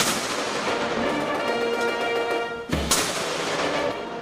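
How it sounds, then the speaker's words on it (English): Ceremonial cannon fire at a military salute and parade in Taiwan sounds as a single sharp, booming report cutting through a dense, steady wash of crowd and band noise, heard from some distance. "Against the backdrop of cannon fire and fanfare, the Republic of China, Taiwan welcomed Prime Minister the Honorable Dr. Terence Drew and his delegation on their official visit"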